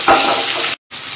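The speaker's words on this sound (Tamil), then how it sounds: "நல்லா ரெண்டும் ஒன்றா போட்டு நல்லா வதக்கணும்." Onion and tomato sauté together in hot oil, a loud, steady, close sizzle that cuts out briefly and then resumes.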